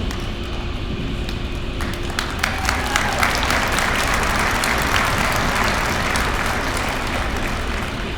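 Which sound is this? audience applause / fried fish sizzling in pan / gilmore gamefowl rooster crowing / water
audience applause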